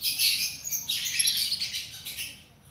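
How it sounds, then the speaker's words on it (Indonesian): A lovebird gives high, squawky chirps and rapid twittering calls in a continuous burst, close and fairly clear, with no voices. "itu lovebird pasti ngeke"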